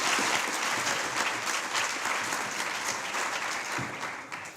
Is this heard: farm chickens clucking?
no